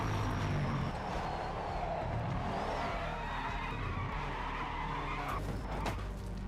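Race car tyres on slick rubber skid and squeal in the Project Motor Racing video game, a steady loud screech over constant engine roar, with the pitch rising and shifting throughout.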